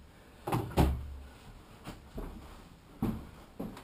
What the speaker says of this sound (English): the door just fell off